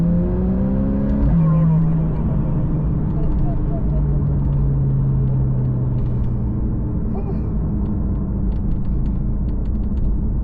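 A Porsche 911 engine in sport mode hums and rises in pitch under light throttle, then settles into a steady drone heard from inside the car, with someone talking over it.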